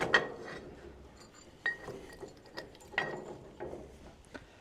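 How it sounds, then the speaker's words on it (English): Farm-all wrench working a bolt on a middle buster bar, a series of sharp metallic clicks and clinks at irregular intervals, close but quiet, with no talking. "This farm-all wrench is good for this bolt right here."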